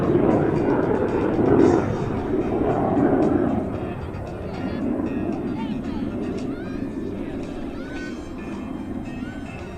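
A jet fighter roars past with its afterburner lit at the Selfridge air show open house, loud and close at first, then easing into a steadier distant rumble as people talk.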